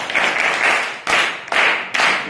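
A classroom of students applauds one of their classmates in several loud bursts of group clapping, each lasting around half a second with brief gaps between them.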